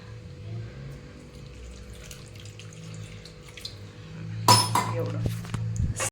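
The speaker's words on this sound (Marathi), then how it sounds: "मी थोडंसंच पाणी टाकणार आहे त्याच्यामध्ये" Water pours into a pan of simmering soybean curry, a short splashing burst near the end with a metallic clink, over a low kitchen hum and some talk.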